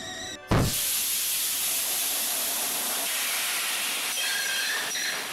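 A steam locomotive's burst safety valve lets go with a sudden loud blast, then a sustained, close, roaring hiss of escaping steam that carries on steadily to the end.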